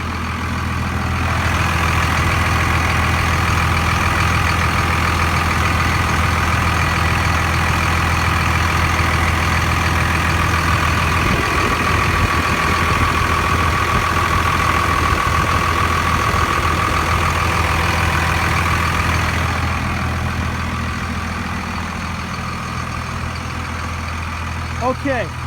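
A Cummins diesel engine in a one-ton 4x4 pickup with a 6-speed idles steadily for the whole stretch, a close, constant low rumble that eases slightly near the end, with someone talking over it.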